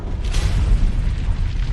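A volcanic eruption on Venus hurls huge chunks of basalt crust as a deep, loud, continuous rumbling boom with no speech over it.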